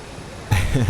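Boeing 737-800 jet engines spooling up in a flight simulator game, a broadband roar that rises abruptly halfway through and holds steady, loud and close.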